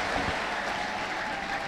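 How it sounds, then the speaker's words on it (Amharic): A church congregation claps briefly in a dense, even patter of hands, with little else heard. "ቁጭ ብላችሁ አጨብጭቡ"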